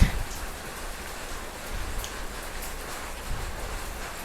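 Steady rain patters down outdoors over a garden of trees and freshly cut grass, easing after a heavy downpour into a continuous, even hiss with scattered drops, moderately loud and with no talking.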